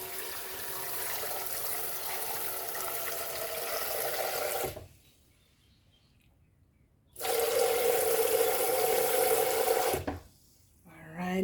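Water runs from a tap in two bursts, each a few seconds long with a pause between, while being added to a blender with coconut for Jamaican coconut dumplings.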